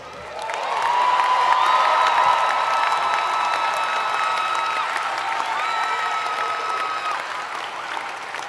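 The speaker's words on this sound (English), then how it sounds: "One more round of applause." A large crowd at a high school commencement ceremony breaks into sustained applause with cheering and whoops, rising quickly and holding loud and full for several seconds before easing slightly.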